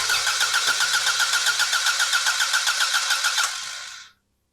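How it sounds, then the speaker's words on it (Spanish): A car engine with a Toyota TCCS electronic control system cranks in a steady rhythmic loop for several seconds, then the sound cuts off abruptly into silence. The cranking is loud and close, with no voices. "Ahora arranquemos el motor"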